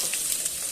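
Sliced onion sizzles and crackles in hot oil, a continuous bright frying hiss close by that stays steady through the short moment with no talking.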